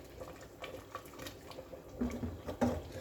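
A spoon stirs ginger and asafoetida water through vegetables cooking in a pot, giving soft wet scraping and sloshing sounds that come in uneven bursts, a couple of louder clinks near the end.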